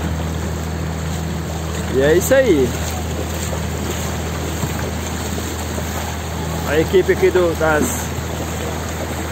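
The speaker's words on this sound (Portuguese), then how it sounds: "aqui é os catamarãs, né? Que é as lanchas." A catamaran motorboat carries motorcycles across the water, its engine a steady low drone throughout while people talk over it.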